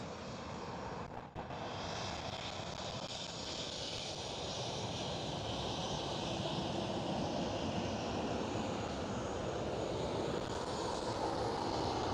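A KLM Boeing 737-700 at Amsterdam Schiphol gives a continuous, broad jet engine roar that swells slightly across the clip, heard alone without talk.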